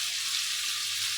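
Raw prawns frying with spices in a pan, a steady close hiss of sizzling oil throughout the short moment.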